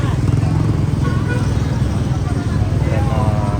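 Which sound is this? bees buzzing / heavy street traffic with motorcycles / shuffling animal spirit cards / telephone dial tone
heavy street traffic with motorcycles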